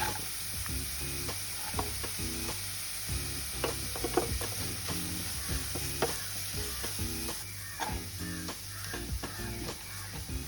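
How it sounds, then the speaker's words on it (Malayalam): Carrots and cabbage stir-fried over a high flame for egg fried rice, a steady sizzle with repeated scraping and clacking of a spatula against the pan. "ക്യാരറ്റ്സ് എല്ലാം ഒരു 3-4 സെക്കൻഡിൽ കൂടുതൽ നമ്മൾ സോട്ട് ചെയ്യേണ്ട."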